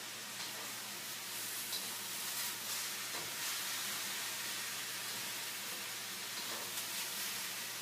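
Broccoli and beef sizzle together in a hot pan, a steady broadband hiss running unbroken and fairly quiet throughout, with no talking over it.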